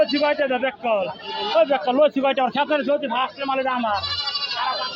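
Goats bleating over and over at a crowded Gazipur goat market ahead of Eid al-Adha, their wavering cries overlapping under steady, close human chatter.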